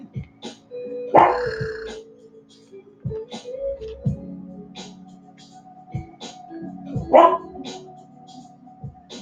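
A dog barks a few times, two louder bursts standing out over a steady low hum, with scattered faint yips in between.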